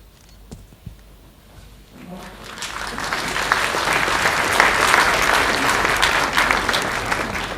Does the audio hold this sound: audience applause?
yes